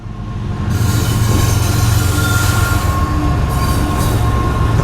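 A train rolls past close by, a loud steady rumble of wheels on rails with faint metallic squeals running through it, no voices.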